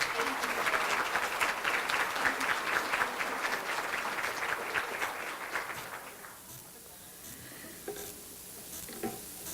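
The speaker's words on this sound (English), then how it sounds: "Let's give them a round of applause." Applause from an audience at a scholarship luncheon, a full crowd clapping loudly for about six seconds before fading into quieter room noise with a few stray claps.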